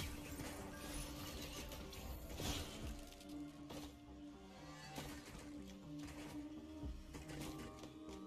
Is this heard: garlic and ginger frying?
no